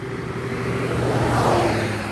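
Several cars pass along a street beside an almond orchard, a steady broad road whoosh swelling to a peak about midway and easing off, with a low engine hum underneath and no talking.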